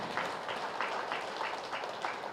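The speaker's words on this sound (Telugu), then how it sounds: "చూడండి ఒకసారి గట్టిగా చప్పట్లు ఇంకా గట్టిగా" Audience clapping at a Women's Day program in Gudiwada, a dense rhythmic patter of hands with regular surges, steady and moderately loud with no voices over it.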